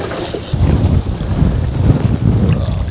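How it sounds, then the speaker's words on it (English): Strong, gusty wind roars and buffets the microphone aboard a fishing boat at sea, a steady broadband rush with rising and falling gusts and no voices. "The wind is savage."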